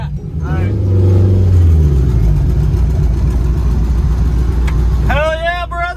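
Turbocharged K-swapped Acura CL launching down a drag strip, a loud rising engine roar that swells and holds before fading, with voices talking over it near the end.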